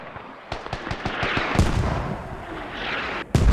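Mortar shells exploding in Squad, a military shooter: a rapid series of sharp blasts early on, then a heavier boom and rumble, with a final loud impact near the end.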